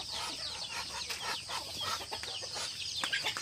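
Hens and small chicks clucking and cheeping on a farm during morning feeding, busy overlapping bird calls at moderate distance, fairly faint, with no speech.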